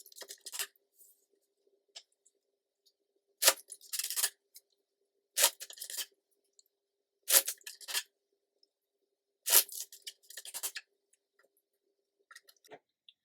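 Several crisp bursts of tarot cards being shuffled close by, each a quick papery riffle, separated by short pauses of near silence.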